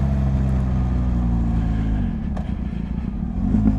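An adventure motorcycle runs with a loud, close, steady low engine drone that settles slightly partway through, with no talking.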